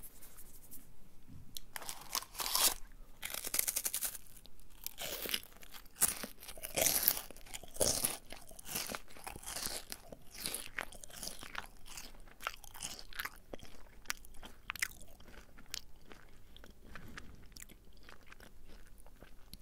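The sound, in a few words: crunching a chocolate wafer bar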